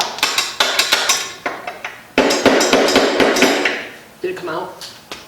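Repeated sharp hammer blows knock pieces out of a wooden dresser, irregular clusters of loud close strikes with short pauses, a voice briefly audible among them.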